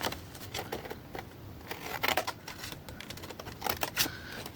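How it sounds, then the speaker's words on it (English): Scissors cut paper into a circle for a junk journal gatefold, giving a close series of crisp, irregular snips and rustles with no talking. "And then we'll cut into our circle."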